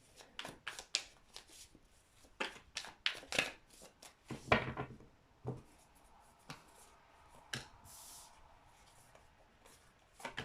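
Tarot cards are shuffled and laid down in a close, quiet series of crisp riffles, snaps and soft slides, with irregular pauses and a few light taps between them.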